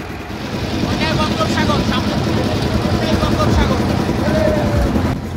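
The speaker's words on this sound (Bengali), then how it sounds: "বঙ্গোপসাগরের ঠিক পাশ দিয়ে সুন্দরবনের কোল ঘেঁষে আমাদের ট্রলারটি এগিয়ে চলছে সামনের দিকে" The engine of a trawler boat on a Sundarbans canal beside the Bay of Bengal hums steadily and fairly loudly. Wind and water rush beneath it, and there are faint chirps in the background.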